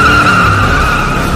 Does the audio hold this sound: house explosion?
no